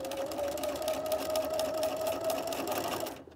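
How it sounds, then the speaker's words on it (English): Sewing machine running steadily for about three seconds, stitching a turned-under hem on a double gauze skirt, a continuous close whirring hum that stops abruptly at the end. "and then I'm going to sew."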